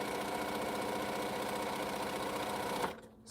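A sewing machine stitches churn dash quilt blocks, running with a steady, rapid mechanical chatter close by before stopping abruptly near the end.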